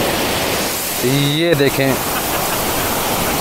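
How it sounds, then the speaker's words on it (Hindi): Sea waves wash over a beach in Tunisia as a broad, steady surf roar. Someone speaks briefly over the water partway through. "अभी ये सामने से फिर आ रहा है पानी"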